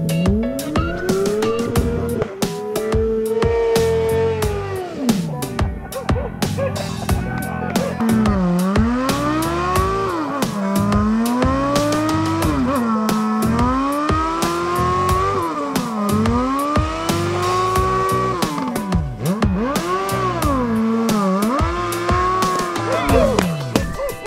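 A motorcycle does a burnout at the Alpine Motorcycle Rally, its engine revving up and down in repeated rising and falling sweeps while the rear tyre squeals continuously, loud and close.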